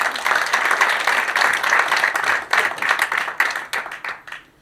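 An audience applauds with dense, steady clapping that carries on for several seconds before thinning out and fading at the end.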